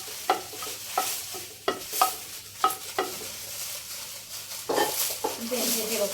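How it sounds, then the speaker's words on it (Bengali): Cinnamon, bay leaves and cardamom fry together in a pan for a semai dessert, with a soft sizzle broken by sharp, repeated scrapes and clicks of a spoon stirring, close and at irregular intervals. "এখন সবগুলো উপকরণ একসাথে ভেজে নিচ্ছি।"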